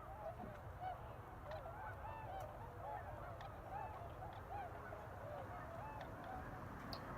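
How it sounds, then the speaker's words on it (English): Tundra swans, also called whistling swans, on migration give repeated soft honking calls from a distance over a steady low background rumble, a loose chorus of overlapping voices. "These tundra swans, or whistling swans as they're also called, are also on a migration."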